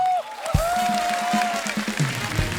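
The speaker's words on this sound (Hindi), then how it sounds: "हमारे सुपरस्टार्स के लिए जोरदार तालियां" Studio audience of a comedy talk show claps for the superstar guests, a continuous patter of applause with a few louder hand hits, mixed with a sustained tonal musical sting over the top.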